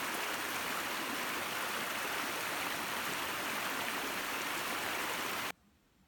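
A small mountain creek along a backpacking trail in Great Smoky Mountains National Park, a steady close hiss of flowing water that runs evenly for several seconds and then cuts off abruptly into near silence.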